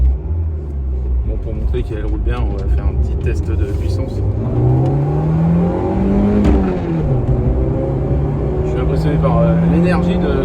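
A small Renault Twingo engine revs during a power test while driving, a steady close rumble whose pitch climbs and shifts as it accelerates, with people talking over it.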